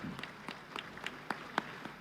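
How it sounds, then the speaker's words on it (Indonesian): Applause from the audience at the annual session of Indonesia's People's Consultative Assembly (MPR) in parliament, a sparse, moderately distant patter of separate claps that builds slightly in strength over two seconds. "Marilah kita berikan tepuk tangan yang meriah kepada para teladan dan perwakilan Raja dan Sultan Nusantara."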